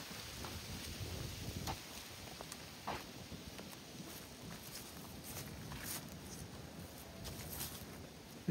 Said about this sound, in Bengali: প্রচণ্ড শীতের ঝড়ো হাওয়া।